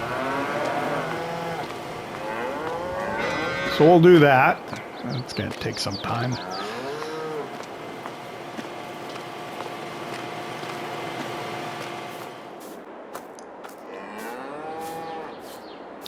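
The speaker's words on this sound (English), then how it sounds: "I am herding my 12 cows here to the animal dealer" Cattle in Farming Simulator 22, a herd of twelve cows being driven to the animal dealer, let out several drawn-out moos, one loud burst standing out, while someone talks over the game sounds.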